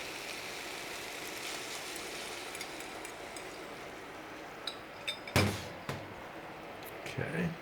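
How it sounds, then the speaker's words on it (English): Sauce poured into a pan of vegetables gives a steady, soft liquid hiss, with a few sharp clinks and knocks of utensils near the end. "now we are just going to put in this really delicious sauce."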